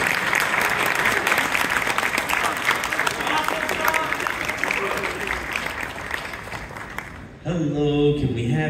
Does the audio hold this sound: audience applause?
yes